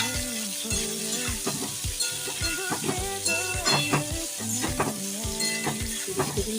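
Tomato and ginger frying in a pan as they are stirred in, with a steady close sizzle broken by repeated scraping strokes and light clinks of the utensil against the cookware throughout.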